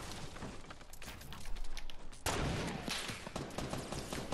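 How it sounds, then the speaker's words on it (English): Gunfire in the video game Fortnite: rapid, dense bursts of shots crowding together, louder and thicker in the second half, with no pause between volleys. "Nah, who's shooting at me?"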